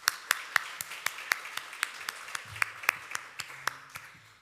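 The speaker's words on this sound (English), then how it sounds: "So let's give them another round of applause." Sparse, evenly spaced handclaps from a small audience follow a talk at a poster lightning-talk session, with individual sharp claps standing out clearly and a faint low hum entering partway through.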